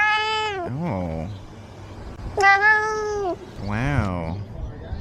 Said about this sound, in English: Kitty noises.